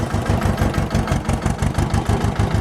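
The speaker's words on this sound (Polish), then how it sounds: "Oczywiście na wolnych obrotach, nie będziemy tutaj piłować tego oto silnika." A freshly rebuilt Ursus C-330 tractor engine idles at low revs while being run in, producing a loud, close, rhythmic diesel chugging with evenly spaced low thumps and no talking.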